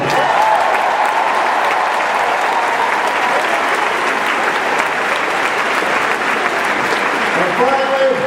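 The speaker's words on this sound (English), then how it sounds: "Please give a big round of applause to Harris Walton." Loud, sustained crowd applause and cheering at a 2008 Obama political rally in Pittsburgh, Pennsylvania, filling the whole stretch steadily without a break.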